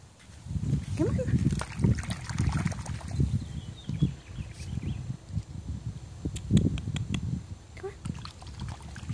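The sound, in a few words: Eurasier puppy swimming and splashing in a pool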